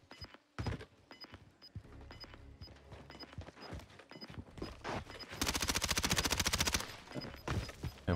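Gunfire in the battle royale game Warzone: scattered sharp shots and short bursts, then a dense, rapid automatic volley near the end, loud and close, with no talking.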